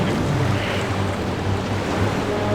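In a cartoon story, a steady wash of sea waves fills the scene as a character journeys across the ocean, a loud, continuous surging roar with no voices.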